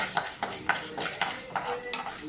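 Urad dal roasting in a little oil in a pan while being stirred, with rhythmic scraping strokes of a spoon repeating about every third of a second over a faint sizzle.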